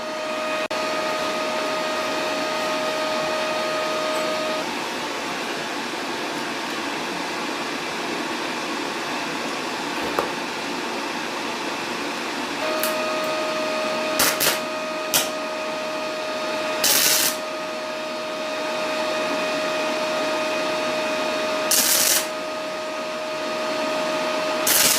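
A Parkside PMSG200 MIG welder tacks thin sheet metal using 0.6 mm wire: a steady loud machine hum with a tonal whine fills the background, broken by a few short crackling bursts of tack welds.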